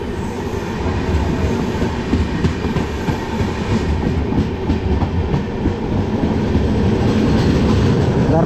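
The SMVT Danapur Superfast Express, an Indian passenger train, passes close by with a loud, continuous rumble and rhythmic clatter of wheels over rail joints, steady throughout with no talk.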